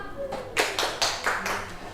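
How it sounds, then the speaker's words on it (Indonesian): A few loud hand claps in a primary school classroom, roughly four quick irregular bursts spread over two seconds, close by with a little voice underneath. "Tepuk tangan dong"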